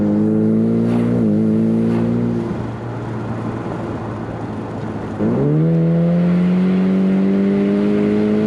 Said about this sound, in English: It don't take much for this little 4-cylinder to get this car up to speed.